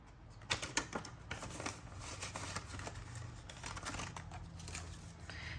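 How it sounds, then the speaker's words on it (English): A pen scratches across a small sticky note with a series of quick, light taps and scribbles, close and quiet, in a still room with no talking. "I'm going to write me a little sticky here"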